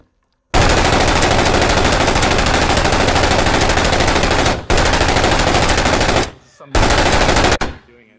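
Sustained light machine gun fire in Call of Duty: Warzone, shooting a door open: loud, dense rapid bursts lasting several seconds, broken by two short pauses, with no talk over it.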